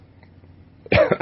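After a quiet moment, one short, sharp cough bursts out close and loud.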